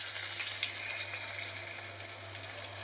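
Spice paste stirred into water pours into a pan of frying potatoes and onions, giving a steady, close wet sizzle and hiss that runs unbroken and fairly even throughout.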